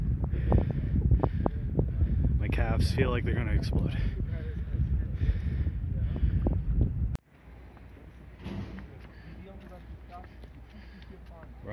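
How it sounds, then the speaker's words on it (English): Strong wind buffets the microphone in heavy, rumbling gusts while a person talks near a glacier, then eases to a steadier, lower roar. "Windy as fuck."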